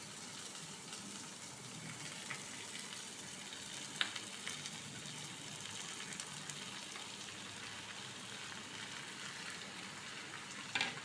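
Marinated meat frying in a pan for a simple home-style dish, giving a steady, fairly quiet sizzle throughout with a couple of brief clinks, and no talking.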